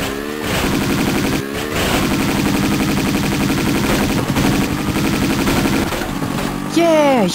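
In Tomb Raider II, a motorcycle's mounted gun fires rapid automatic bursts, loud and continuous for several seconds with brief gaps and engine drone underneath, while a voice speaks over it near the end.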